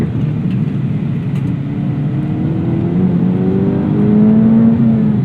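A 2024 Acura Integra Type S accelerates through corners, its engine note climbing steadily and growing louder as revs build, with tire and road noise underneath and no talking.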